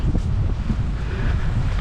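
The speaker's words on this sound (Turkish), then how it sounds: "rüzgarlı da olmaya başladı" Heavy wind buffets the microphone in a continuous low roar, gusting unevenly with no voices present.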